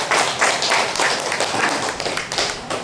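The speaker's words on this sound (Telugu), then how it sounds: "మనందరం కూడా మనం మన చప్పట్ల ద్వారా ఒకసారి స్ఫూర్తిగా వాళ్ళకి అభినందనలు తెలియజేస్తున్నామా" An audience claps together in a steady, dense round of applause, sustained and fairly close, honouring a married couple recognised for their service work.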